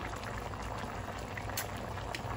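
Beef curry with vegetables at a steady bubbling boil, continuous and close, with dense small pops and gurgles throughout, no voices.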